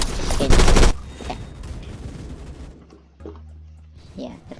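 Gunfire from a shooting video game with an FAL rifle, a dense burst of rapid shots up front followed by quieter scattered shots and game sounds.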